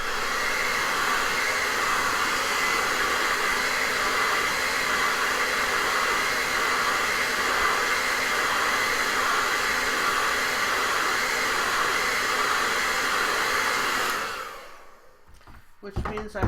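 A hair dryer blows on wet paint on an Einstein nutcracker, a loud, steady, close whooshing hum that runs unbroken for about fourteen seconds, then cuts off, leaving quiet handling noise.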